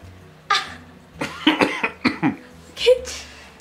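A few short coughs and throat sounds in quick succession, fairly close, with quiet background between bursts.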